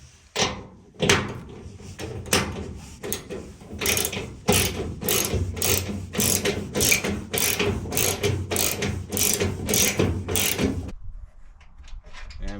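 Bolts being driven to fix furring strips onto the wall of a steel shipping container barn, a rapid series of loud ratcheting, clattering impacts for about ten seconds, close up, then stopping abruptly, with no talking.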